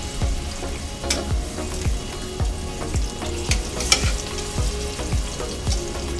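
Jambalaya ingredients sizzle and crackle steadily in a hot preheated pot, with occasional clinks and scraping as it's stirred, close and continuous.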